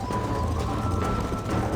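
Hooves clop steadily beneath a galloping horse in the video game Red Dead Redemption, a rapid rhythmic pounding heard close and loud under music and game sounds.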